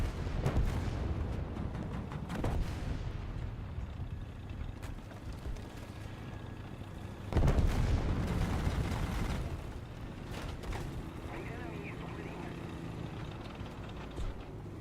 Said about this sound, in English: I'm hearing so many little engines just whirring all around.